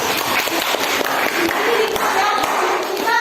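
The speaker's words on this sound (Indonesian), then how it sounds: "tepuk tangan dulu untuk sini" Classroom group applauding during an accounting lesson, a continuous close patter of many clapping hands with murmured voices and chatter mixed in throughout.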